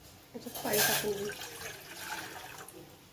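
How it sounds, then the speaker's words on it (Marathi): Water splashes and pours into a pot for boiling corn, a brief rushing burst near the start that tapers into faint trickling, with a voice talking quietly underneath. "पाणी टाकून घेऊ।"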